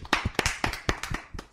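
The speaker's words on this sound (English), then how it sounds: "Round of applause for Kevin Owens, man." Hand clapping from a small group, about ten quick irregular claps over a second and a half, fairly close and with no talking over it, the short round of applause given for a wrestler while reviewing WWE Extreme Rules 2018.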